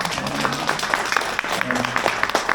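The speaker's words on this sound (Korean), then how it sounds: "박수 한번 주세요" Scattered hand clapping from a seminar audience welcoming a guest lecturer, moderate and uneven with distinct individual claps over a low background murmur.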